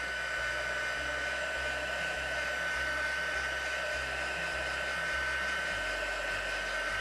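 A heat tool blowing hot air to warm a card before embossing powder is melted, giving a steady, loud, unbroken whirring hum of a hair-dryer-like blower that lasts throughout.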